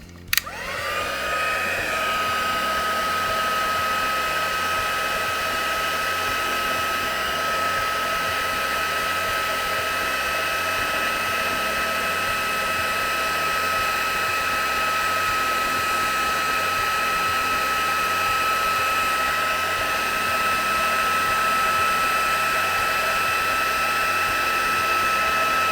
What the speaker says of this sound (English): All right, let's give it a heat.